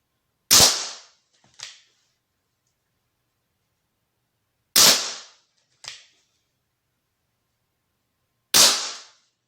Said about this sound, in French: J'ai tiré mes 6 coups.